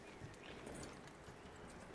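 Horse hooves clip-clop at a walking pace as a horse is led in Red Dead Redemption 2, the soft, faint steps set against quiet ambience.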